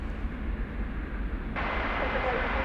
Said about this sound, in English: there's a FedEx MD-11 taxiing